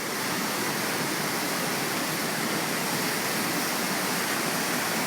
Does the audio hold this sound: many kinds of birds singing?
no